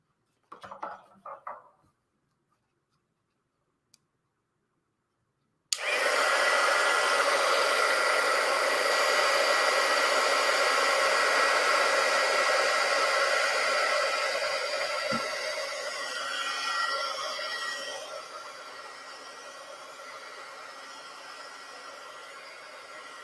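A handheld hair dryer drying a stitching project roars on after a brief moment of quiet and runs as a loud, steady whoosh for the rest of the clip, easing slightly near the end.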